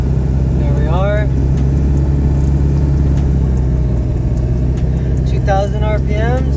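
A Ford 7.3 diesel truck fitted with a KC300 turbo climbs a hill at a steady engine speed, its deep cab-heard rumble constant throughout, with brief rising whistles above it.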